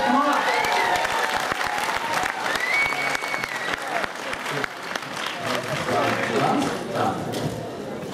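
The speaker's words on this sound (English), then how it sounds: "give a big round of applause to the director." A film festival audience in Toronto applauds director Fred Pierce, loud sustained clapping and cheering with voices mixed in throughout.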